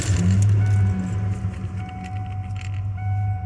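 1988 Ford F-150 XLT Lariat with a five-speed manual, keys jangling near the ignition, then the engine cranking and catching into a steady close idle hum.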